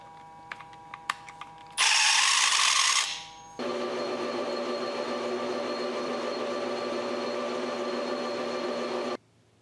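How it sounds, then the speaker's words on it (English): Deburring a machined copper welding finger: a few light clicks, then a loud whirring burst of about a second, followed by a steady humming tool run lasting several seconds before it stops. "Okay, we'll do some quick deburring."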